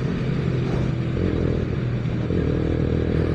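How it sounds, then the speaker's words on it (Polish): A Romet Division 125 motorcycle engine drones steadily and close up, with a continuous low rumble and a slight rise in pitch as it accelerates, and no talk over it. "ten motocykl bardzo fajnie, żwawo przyspiesza, reaguje dobrze na tą manetkę"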